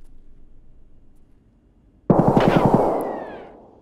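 Gunfire in the video game Escape from Tarkov: a sudden loud burst of several rapid shots in quick succession, with a decaying echo afterward, following a quiet stretch.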